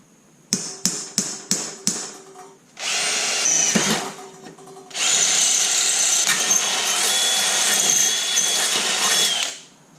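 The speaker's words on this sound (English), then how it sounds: "so we're going to go and drill our hole in the next." Five quick metallic taps in a row, then a cordless drill starts, stops, and runs a long steady high-pitched whine through a metal bracket before cutting off.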